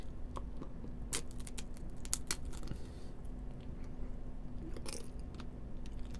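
Crunchy bites into strawberry marshmallow tanghulu with a brittle sugar glass coating, heard as a few faint, close crackling crunches and chewing over a steady background hum.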